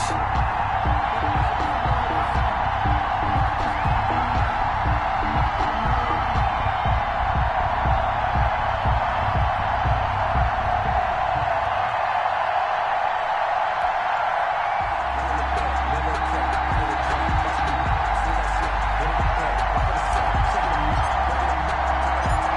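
A sold-out stadium crowd roars steadily throughout a football video game matchup between the Buffalo Bills and Seattle Seahawks in Buffalo, a dense continuous cheer with low rumbling swells, loud and constant from start to finish.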